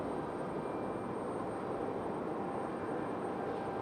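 A Delta airliner from LaGuardia in New York arrives at Raleigh-Durham airport. A steady, broad jet roar holds at an even, moderate level with no talk over it.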